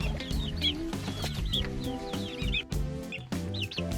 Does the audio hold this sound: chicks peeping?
yes